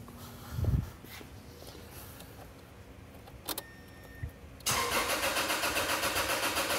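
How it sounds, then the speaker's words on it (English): A car engine cranks and then fires into a steady idle, with a fuel injection system lacking fuel pressure; a brief thump and a few clicks come before the loud, continuous running engine. "go crank the car and see what I get"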